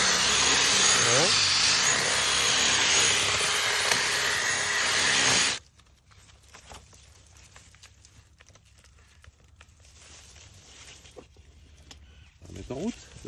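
A drill bit boring into soft, punky decayed wood inside a tree cavity, a loud steady grinding whine close by for about five seconds that cuts off abruptly, followed by quieter handling noise and talking.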